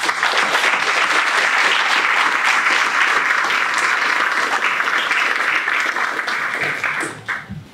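Loud, sustained applause from a graduation audience thanking parents and guardians, dense clapping filling the hall steadily before thinning out and fading near the end.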